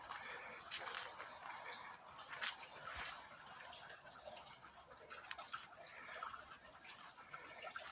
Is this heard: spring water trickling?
yes